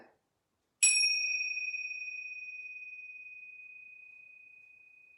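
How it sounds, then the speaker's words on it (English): A single yoga bell or singing bowl struck once during a mum-and-tween yoga class, a clear bright ring that sustains and slowly fades over several seconds in otherwise near silence. "listening for the bell"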